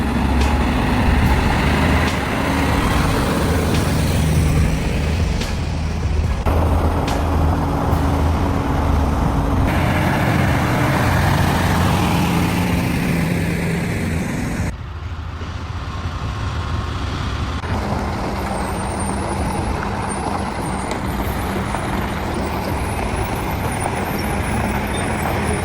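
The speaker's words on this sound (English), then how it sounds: "A heavy truck, loaded with cargo, was lurching down the road." A heavy cargo-laden truck rolls down a mountain road at about 1,800 meters altitude, its steady, loud engine and road rumble continuous throughout, with brief shifts in tone partway.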